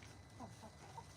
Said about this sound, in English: We're just chilling out with the hens tonight.